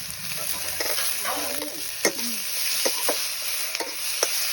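Ginger, garlic and tomato frying and being stirred for a village-style local pork dish, a steady sizzle with scattered scrapes and clinks of a utensil against the pan, close by.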